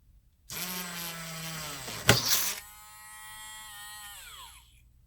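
A power drill whirs up to speed, hits a laptop's broken hinge with a sharp crack and grinding burst, then keeps spinning and winds down.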